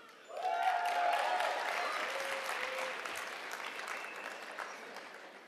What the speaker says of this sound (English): save your most effusive applause for the end so that all of the names can be heard